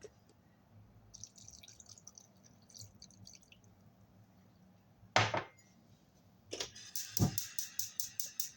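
Small splashes and a short trickle of water landing in a cooking pot with fish and black vinegar, followed by a few rhythmic drips and taps, close by with no talking.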